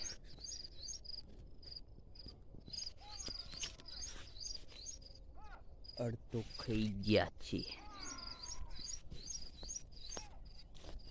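Sparrows chirp and tweet in a millet field at about seven in the morning, thin high calls repeating steadily at moderate distance, while a person speaks nearby and other brief sounds come and go.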